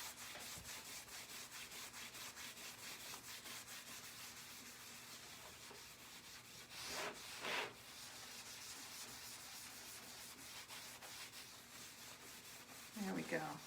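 A cloth buffing wax into a wooden surface, making faint steady rhythmic rubbing strokes close by, with a couple of louder scuffs.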